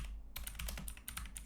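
Quick bursts of keystrokes on a computer keyboard, close and fairly loud, starting after a brief pause and clattering on in uneven runs with no talking.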